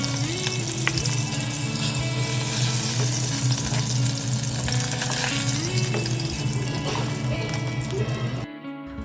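Pieces of rui fish fry in hot oil, a dense, continuous sizzle that holds loud and even throughout before cutting off abruptly near the end.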